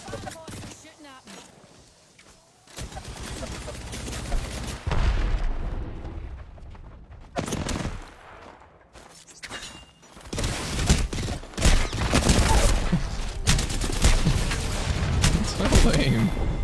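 Heavy bursts of gunfire from a boss in a video game, in rapid volleys and booming blasts that come and go in waves, loud and dense with brief lulls between.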